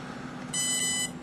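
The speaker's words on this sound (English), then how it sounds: "5 double beeps for hard timing." Electronic beeps from the ESC of a 3DX-450 RC helicopter during programming, a loud, steady high tone lasting about half a second over faint background hiss.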